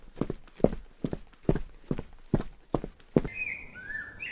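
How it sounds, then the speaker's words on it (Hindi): Footsteps on a jungle path: about eight evenly spaced, fairly loud steps in a steady walking rhythm, followed by a few bird chirps as the steps stop. "तभी उसको पैरों की आवाज सुनाई देती है"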